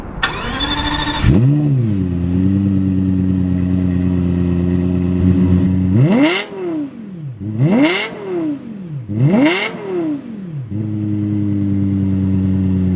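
A naturally aspirated V10 car engine starts with a rising whine and settles into a loud, smooth idle, then screams through three quick, sharp revs toward 9,000 RPM before dropping back to idle, heard up close.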